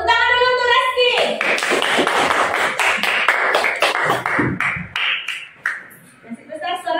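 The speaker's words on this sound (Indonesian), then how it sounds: "Coba, tepuk tangan dulu untuk Reski." A classroom of children claps for a classmate who comes forward: a brief voice, then a burst of quick, dense hand claps that lasts several seconds before trailing off into more talk.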